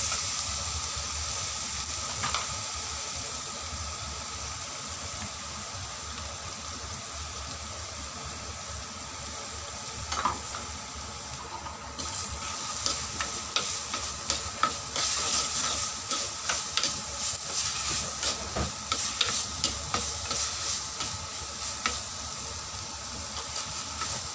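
Steady broadband hiss of ground masala frying in a pan for Kerala-style sardine fry, with occasional scraping and stirring clicks growing busier toward the end; no voices.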